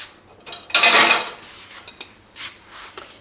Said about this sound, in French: je prends une assiette